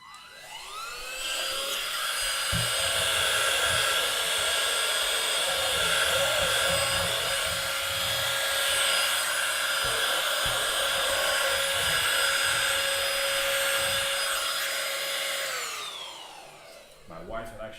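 A small car vacuum cleaner whirs up, runs with a steady high whine for about fourteen seconds during cleanup at a model tank painting desk, then winds down, leaving a few faint handling knocks.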